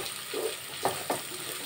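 Onions, green chillies, cashews and whole spices fry in oil and ghee for biryani, a soft steady sizzle broken by two or three quick stirring scrapes close by.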